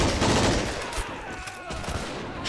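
Rapid gunfire in the video game Army Men of War, a dense, overlapping exchange of rifle and machine-gun shots rattling continuously at fairly close range with no voices.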